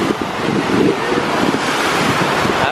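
Large lake waves crash and wash onto the Chicago shore in a loud, continuous roar of surf with heavy wind buffeting close to the microphone.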